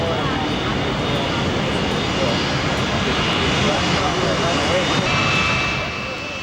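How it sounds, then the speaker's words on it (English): The engines of the B-24 bomber Diamond Lil give a constant heavy roar that stays level throughout, with a voice talking over the drone. "we're now almost ready to start engines"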